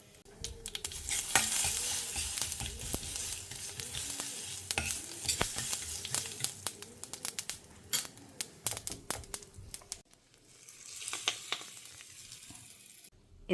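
Tempering spices crackle and splutter in hot oil for a kosambari salad, a steady dense sizzle with scattered sharp pops that thins out and quietens near the end, heard with no talk.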